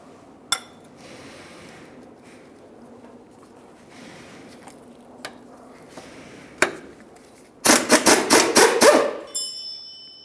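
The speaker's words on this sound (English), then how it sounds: "To remove this bolt, we'll be using a 15mm on the inboard side of the bolt. For the nut, use an 18mm." Steel wrench work on the rear shock mounting bolt and nut of a 2003-2011 Mercury Grand Marquis, using 15mm and 18mm sizes: a few isolated metallic clinks, then a loud burst of rapid ratcheting clicks near the end.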